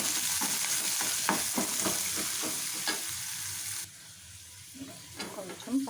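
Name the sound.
frying raw peanuts and onions in a pan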